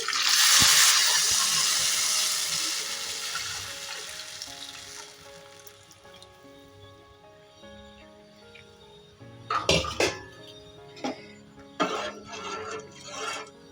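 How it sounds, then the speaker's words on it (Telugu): Rasam poured into a hot pan of fried black peppers bursts into a loud sizzle that slowly fades, followed by a few sharp clatters of a spoon stirring near the end; no one talks. "ఇప్పుడు మనము ముందుగా తీసి పెట్టుకున్న రసం మొత్తం ఇందులోకి వేసేసుకున్నాము"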